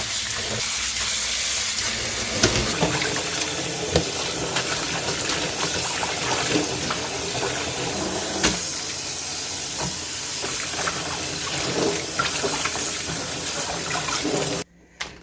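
Napa cabbage is rinsed under running water, a loud, continuous rushing splash with occasional knocks and handling, close by and with no talk.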